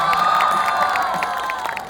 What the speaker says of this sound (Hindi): एक बार अपने लिए ना जोरदार तालियां बजा लो आप लोग पहले।